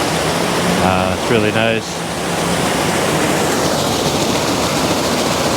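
Splashing water from a combined fountain and waterfall runs as a steady, close broadband rush throughout, with a person briefly speaking over it near the start.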